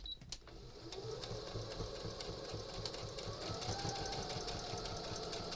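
A sewing machine runs steadily at speed while stitching diagonally across a rag lap quilt, making a fast continuous mechanical whirr with rapid repeated needle clatter, close up and on its own.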